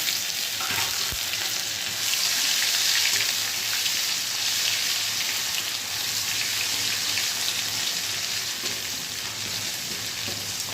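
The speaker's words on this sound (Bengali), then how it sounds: "আদাটাকে একটু ভালো করে ভেজে নেব" Whole cumin seeds and grated ginger fry in a pan, giving a steady, bright sizzle that holds constant throughout, close and alone with no talk.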